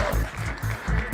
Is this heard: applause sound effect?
yes